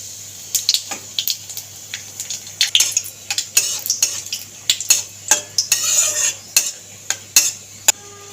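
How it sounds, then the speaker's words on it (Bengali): A whole dry red chilli and black cumin fry in hot oil, giving a light sizzle under frequent sharp spoon taps and scrapes against a metal pan, close and uneven in rhythm, with no talk. "তেলের মধ্যে ফোড়ন দিয়ে দেবো গোটা একটা শুকনো লঙ্কা আর কালো জিরে"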